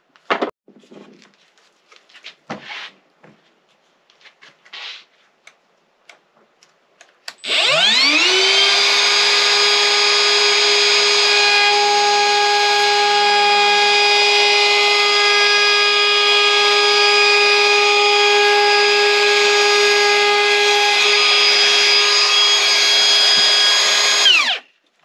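A cordless Milwaukee M18 FUEL 1/2-inch router on a 6 amp-hour battery cuts a 3/8-inch round-over in wood. A few light knocks come first, then the motor spins up into a loud, steady high whine. It holds for about seventeen seconds before cutting off.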